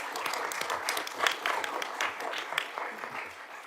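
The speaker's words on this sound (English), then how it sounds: "I think we should clap them." Applause at a joint council and cabinet meeting in Cambridge, a steady patter of many hands clapping for a few seconds at moderate loudness, fairly close, with no talk over it.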